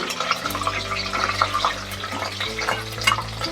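Whole cinnamon, cloves, black pepper and torn bay leaf toast in a pan for pulao, giving a soft continuous sizzle with light scraping stirs, close and steady under a low background hum.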